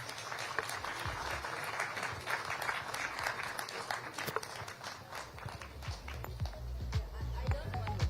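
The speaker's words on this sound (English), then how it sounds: "Ladies and gentlemen, once again, a final round of applause for our speakers." Applause for speakers at a literary festival rolls on at moderate, somewhat distant level, a dense patter of many hands with occasional sharper claps, then thins out toward the end.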